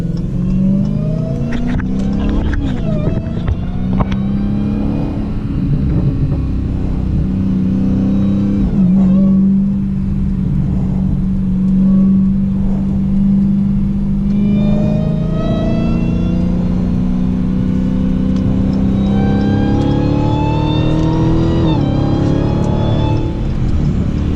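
A 2017 Dodge Challenger Hellcat engine revs hard and climbs in pitch while accelerating to pass, dropping briefly at several gear changes before pulling up again, loud and close throughout with no talking.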